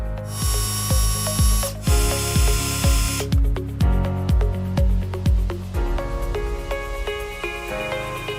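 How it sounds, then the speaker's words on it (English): A Rocken S-2000 spot-weld drill bit sharpening machine, made in Japan for body shops, runs up close and loud, giving a steady series of rhythmic mechanical clicks and whirring strokes with no talking. "The machine is capable of sharpening normal size drill bits and shorter drill bits as well."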